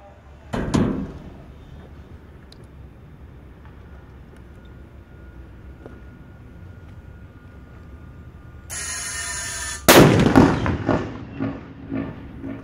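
A simulated explosive ordnance charge detonates during Marine training at Camp Pendleton, a single sharp blast followed by a rumbling, decaying roar, preceded by a steady low background hum and a faint earlier thump.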